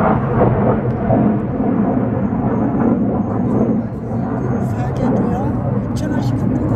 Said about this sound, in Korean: 비행기 소리가